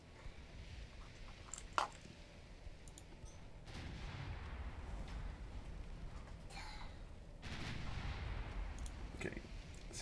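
Destroyer guns firing in the naval battle game Ultimate Admiral Dreadnoughts, a sharp report near two seconds followed by further distant booming shots over a steady low rumble of battle ambience.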